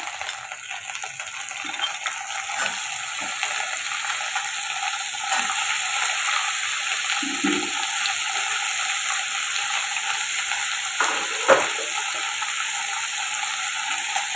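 Pumpkin pieces sautéing in a pan with onions, giving a steady close sizzle and frying hiss with occasional soft stirring scrapes, no voices.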